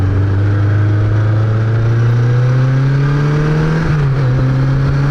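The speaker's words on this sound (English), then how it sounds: "I'm really only feathering the throttle right now" A BMW K1200LT motorcycle engine hums steadily at close range while the rider feathers the throttle and slips the clutch, its tone rising slowly with a brief dip near the end, with no talking.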